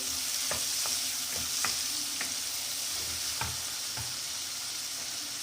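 Chopped onion sizzles steadily in a hot pan for red sauce pasta, with a spoon scraping and stirring in several distinct strokes over the frying noise, heard close up without speech.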